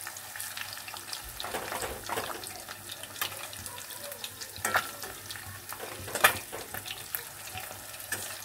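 Egg and masoor lentil pakoras frying in oil over low to medium heat, a steady soft sizzle with occasional scraping and clinking as the fritters are turned, no voices.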